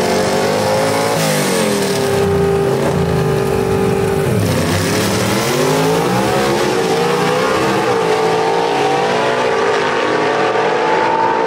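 Gasser-class drag race cars launch down Knoxville Dragway at a Southeast Gassers event, their engines roaring loud and close in a steady, rising drone that swells as they pull away down the track.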